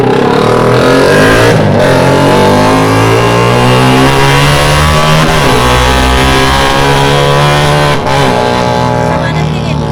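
Motorcycle engine running loud and steady, with revving pitch shifts and sustained mid-range engine drone throughout.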